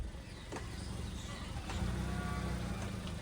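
A car reverses slowly into a parking spot with a low, steady engine hum that swells a little partway through. Faint clicks and ticks come over the drone, and nobody speaks.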